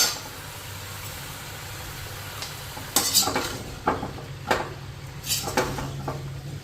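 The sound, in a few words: stirring vegetable curry in a pot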